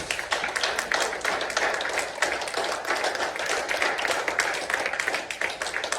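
A church congregation claps steadily and loudly, dense applause sustained for several seconds with no pauses.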